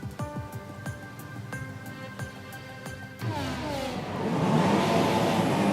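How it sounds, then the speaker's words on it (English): F1 cars sit revving on the grid in Canada in F1 2017 before the start lights go out: sharp repeated throttle blips over a steady hum, then a swelling, louder wall of engine roar as the field pulls away. "we have our engines up waiting for the lights to go out"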